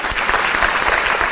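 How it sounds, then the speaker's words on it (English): Applause fills a hall at a school district resiliency awards ceremony, steady clapping from an audience honoring a benefactor, continuous and fairly close for the whole moment. "clap it up for Mr. Veralis one more time"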